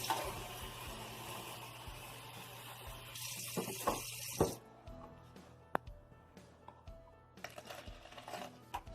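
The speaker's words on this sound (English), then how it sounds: "And throwing in a little bit of water." White vinegar and water being mixed at home for disinfectant wipes; water pours and splashes into the solution for a few seconds, close and fairly loud, followed by quieter clinks and handling sounds, no talking.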